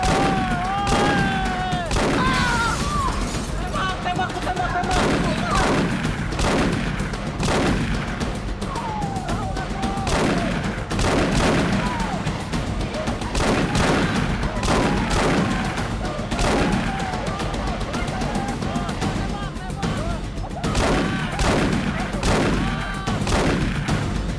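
Gunfire sound effects crackle through a shooting scene in a children's drama, a dense, continuous fusillade of loud rapid shots with booming thuds, while voices shout over the barrage.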